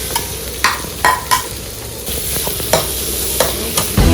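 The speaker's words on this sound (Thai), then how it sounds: "เราต้องผัดหมูก่อนนะครับ" Pork stir-fries in a hot pan with a steady loud sizzle, while a spatula scrapes and knocks the pan in irregular strokes, close up and without talk.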